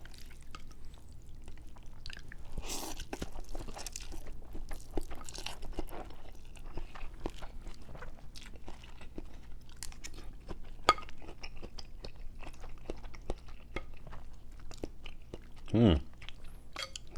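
A meatball from a bowl of pho is chewed up close, with soft wet chewing and occasional crunchy bites, light clinks of a spoon or bowl, and a brief breathy sound near the end.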